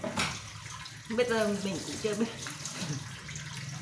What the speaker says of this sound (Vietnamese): Xả nước nha.